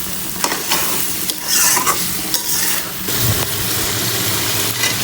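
Beef liver bhuna from a Qurbani cow stirred and fried in a pan, a continuous sizzle with repeated scraping spoon strokes close up, no talking over it.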